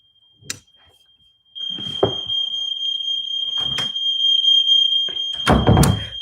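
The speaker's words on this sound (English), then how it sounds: "The fire alarm is going off." An oversensitive indoor fire alarm sounds a steady, piercing high-pitched tone that runs nonstop. Loud thuds and knocks land at intervals on top of it.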